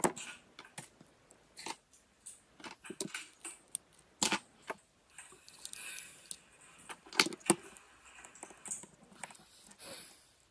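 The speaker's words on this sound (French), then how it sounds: "Donc, on démonte notre carte mère." Small metal parts and tools click and tap sharply while an iPhone 7 motherboard is taken apart on a repair bench, a close, irregular run of light ticks and rattles with no talking.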